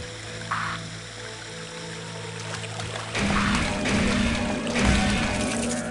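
Waterfalls in the video game Shadow Man roar as a steady broadband rush that swells louder partway through, with no voices.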